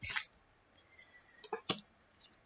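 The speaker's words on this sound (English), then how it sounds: "lots of shuffling there" Tarot cards are shuffled indoors in a few quiet bursts, soft papery flicks and clicks separated by near silence.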